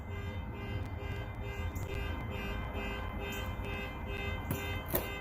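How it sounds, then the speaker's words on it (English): A car alarm sounds at a distance, a steady tonal wail that carries on without a break over outdoor background noise, with no talking. "finding out what car is with the alarm that's going off"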